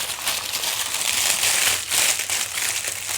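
Plastic packaging crinkles and rustles steadily as it is pulled off an Iron Studios 1/10 Forge collectible figure, close and continuous with no talking.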